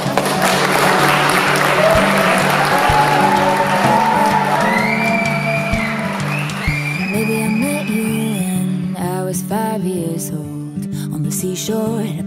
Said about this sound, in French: Je les invite à s'embrasser et on va les applaudir.